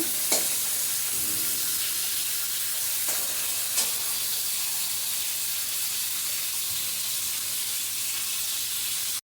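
Ridge gourd with poppy seeds fried in a pan, giving a loud, steady, close hissing sizzle with a few soft stirring scrapes, no talking.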